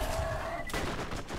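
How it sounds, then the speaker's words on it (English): A burst of rapid SMG fire in the video game Borderlands, loud, dense and continuous across a short span of game noise. "I love this SMG though"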